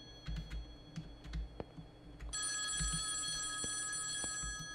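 A telephone bell rings in the horror video game Project Selene, a bright sustained electronic ring starting partway through over quiet ambience, after a few soft tapping clicks.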